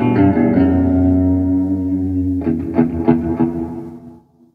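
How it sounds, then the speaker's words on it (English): Electric guitar through a Caline Ragnarok delay and reverb pedal set to reverb with all knobs at noon: a sustained chord washes out in a long tail, then a few picked notes bloom and decay into silence. "This is your reverb."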